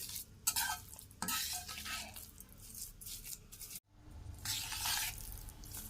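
Sugar being stirred into hot ghee in a pan for sweet potato sheera: a close spoon scraping and sizzling with bursts of clatter, a brief pause near the end, then steady stirring again, no talk.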